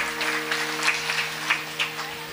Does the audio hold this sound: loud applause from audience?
yes